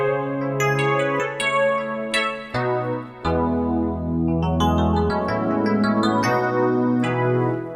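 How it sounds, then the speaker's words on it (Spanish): A Dino piano keyboard sample played in Reason: bright electric-piano chords and struck notes ring out one after another in a slow ballad feel, clean and upfront, with no voices. "Por ejemplo, ese Dino piano es uno de los sonidos más buscados por los baladistas."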